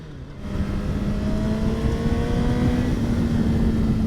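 A 2021 Honda CBR 1000 RR superbike engine held high, near 7,000 rpm, giving a loud, steady, tonal drone that swells slightly after a quieter opening moment, with no voices.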